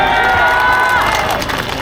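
A large crowd roars and cheers loudly at an outdoor political campaign rally in Icheon, South Korea, a dense continuous wall of voices with no single speaker standing out.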